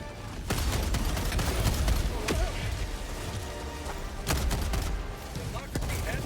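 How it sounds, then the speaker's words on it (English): Video game autocannon fires in a rapid series of heavy booming shots, loud and close, mixed with other battle noise, with someone talking over parts of it. "Please, autocannon. Fire more."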